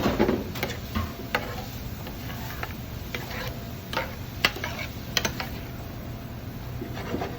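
Tomato sauce stirred in a very hot pan for currywurst, with soft scraping and ticking spoon strokes over a low bubbling sizzle, close and fairly quiet, no talking.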